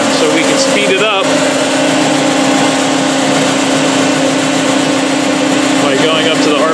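A Held Hydraulik hydraulic hose impulse test stand runs at a slow 30 RPM, producing a loud, steady mechanical drone with a constant hum and dense whirring noise that holds unbroken throughout.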